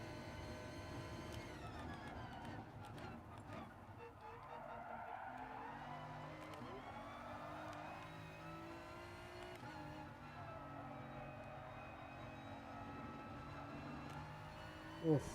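Racing car engine in a video game, a steady, sustained drone with shifting pitch as it revs, plus occasional tire squeal, fairly quiet and continuous throughout with a brief sharp burst at the end.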